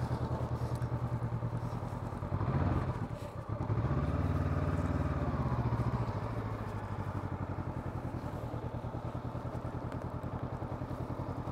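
A motorcycle engine runs steadily at close range during slalom practice on a training area, the bike leaning through turns, with a louder surge of revs midway before settling back to an even drone.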